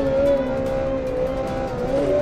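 A go-kart engine whines steadily while racing across rough desert terrain in a video game, a continuous tonal drone with slight pitch shifts and no speech.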